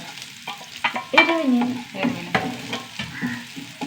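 Shallots, curry leaves and crushed chilli frying in oil, with crackling sizzle bursts and spoon stirring strokes close up, louder pops around the middle.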